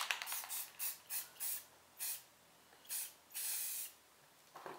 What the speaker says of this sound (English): Spray black on the back.